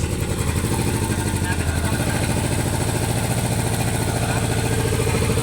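A jet ski engine with a 1,700cc displacement runs steadily through a start-up trial, a loud, continuous close-up drone with a mechanical clatter and no pause.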